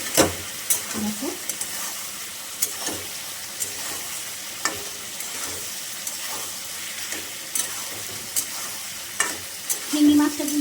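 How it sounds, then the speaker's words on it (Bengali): Shrimp fry in hot oil with broken green chilies in a pan, giving a steady sizzle with scattered clinks and scrapes of stirring throughout, close and fairly loud, with no voices. "চিংড়ি মাছটা কিন্তু হালকা হালকা ভাজা হয়ে গেছে।"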